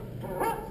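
A single dog gives a short, close bark or yip, heard alone against a steady low background hiss.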